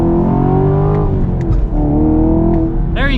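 A Chevy Camaro SS 1LE with a manual gearbox roars loudly and continuously up close, its engine note rising and falling through acceleration and downshifts with throttle blips, ending in a sharp rev.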